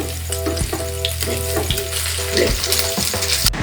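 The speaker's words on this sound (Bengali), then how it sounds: "দেখুন কত সুন্দর লালচে ভাজা হয়ে গেছে।" Oil fries paneer fingers steadily with a bright crackling sizzle, punctuated by a few soft clinks and scrapes, close and continuous throughout.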